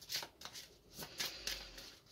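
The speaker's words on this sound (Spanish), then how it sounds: "Voy a barajar un poquito más" A deck of tarot cards is shuffled in several soft, quick riffles and slides, faint and close, with brief bursts separated by short pauses.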